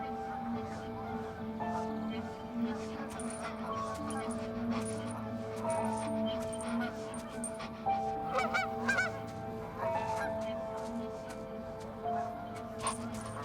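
A flock of geese being chased off city streets and parks in the United States by a herding border collie honks repeatedly in overlapping calls, loud and close, while people talk over them.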